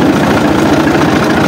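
A Fiat 640 tractor engine runs steadily in first gear, a loud, continuous low diesel rumble with an even throb and no pauses.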